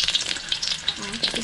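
Sponge gourd, garlic and onion sautéing in a pan, a close crackling sizzle with quick scraping stirs that pulse in short bursts.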